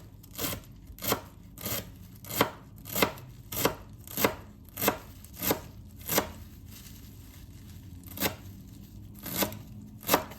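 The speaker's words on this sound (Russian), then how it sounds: "Нарезаю зелень мелко." Steady rhythmic knife chops through parsley and dill on a cutting board, a regular beat of crisp thuds repeating about twice a second, close and clear with no talking.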